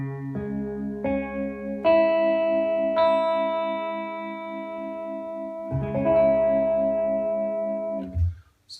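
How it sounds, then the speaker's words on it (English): Clean electric guitar notes played through GarageBand with amp vibrato are picked one by one and left to ring, with a slow pulsing waver through the sustain. The notes sound close and clear. "So let's add some vibrato."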